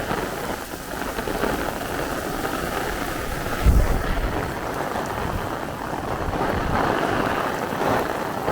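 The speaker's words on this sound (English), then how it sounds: "Look at this wind." Gusty thunderstorm wind with a heavy downpour on a flooded Brooklyn sidewalk, a steady roar of rain with wind buffeting the microphone and one sharp thump partway through.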